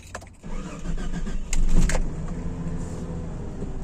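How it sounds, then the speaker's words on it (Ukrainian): A Jeep off-road vehicle with automatic transmission cranks and fires up after a reluctant start, a brief loud burst settling into a steady close idle inside the cabin. "Вау, як вона завелась."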